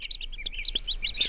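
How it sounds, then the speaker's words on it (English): Repeated high, thin chirps from a newly hatched baby bird, a quick run of short tweets that stays fairly soft and close, with no talking. "What's in the egg? A baby bird."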